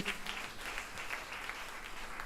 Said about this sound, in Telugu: నమ్మిన వారందరూ గట్టిగా చప్పట్లు కొట్టండి.